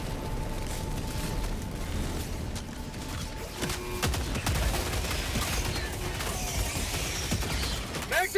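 Explosive gunfire in the video game Helldivers 2 on difficulty 9, with dense booming shots and blasts rolling through a noisy battle mix, near and loud throughout.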